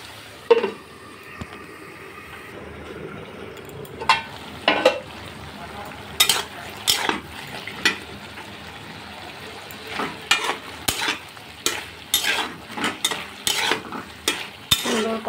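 Fried potatoes and tengra fish being stirred in a pan with a spoon, bringing repeated scraping clatters of metal on the pan over a faint oily sizzle, with the strokes coming faster toward the end.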